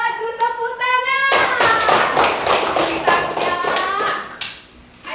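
Children clap their hands in a dense burst of close, brisk claps lasting several seconds, after a short spoken word, then fading out.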